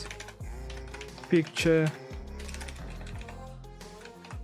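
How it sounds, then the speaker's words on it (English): Typing on a computer keyboard in short bursts of quick key clicks, close up, with a voice speaking over them. "I'm going to type that"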